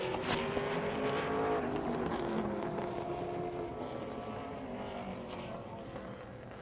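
A field of super late model race cars rolls behind a Ford pace vehicle at a short track race, a steady layered engine drone that fades slightly toward the end, with no talk.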